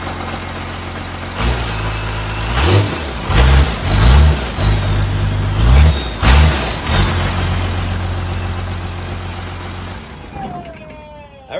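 A project vehicle with a 3-speed automatic fires up on its ignition and keeps running, close and loud, with several revs rising and falling before it settles into a steady idle, then shuts off near the end.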